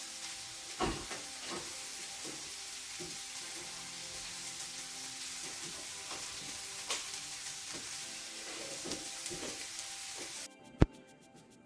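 Bacon sizzles in a pot, a steady close hiss of frying fat with occasional soft pops and stirring knocks, continuing for about ten seconds before cutting off abruptly.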